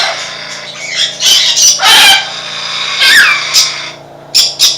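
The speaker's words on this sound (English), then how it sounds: "Got some parrots down here." Loud, harsh parrot squawks burst out close by in several separate calls, with short gaps between them and no talking.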